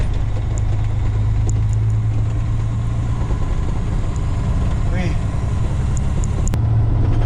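A vehicle pulls up to a farm during a December harvest, its engine giving a steady, loud, close rumble from inside the cab, with some talk over it.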